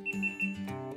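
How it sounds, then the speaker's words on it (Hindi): A GoPro Hero 10 Black action camera gives a short series of clear electronic power-on beeps, a few evenly spaced tones in a quiet indoor room with no talking. "ऑन करते हैं, बीप करता है, बीप की आवाज़ आएगी"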